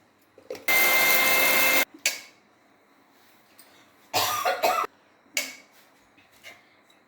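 A mixer grinder whirs in short, loud bursts with pauses between, grinding roasted dried red chillies, urad dal and salt; one longer pulse first, then several brief ones.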